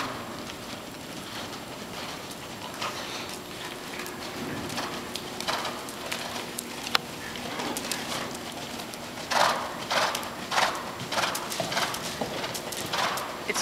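Horse hooves clip-clopping at a riding lesson, a steady series of sharp knocks that gets louder and more regular toward the end over a quiet outdoor background.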